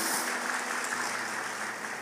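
A church congregation applauds during a sermon, a soft, even wash of clapping that sounds somewhat distant and fades slightly toward the end.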